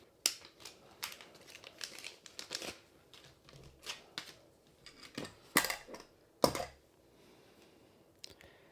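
A folding knife with a camo carbon fiber handle and titanium clip is slid out of a crinkly plastic Ziploc bag, giving scattered rustles and sharp crackles, fairly quiet and close, with no talk.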